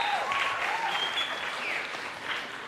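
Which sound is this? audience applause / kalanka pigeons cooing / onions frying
audience applause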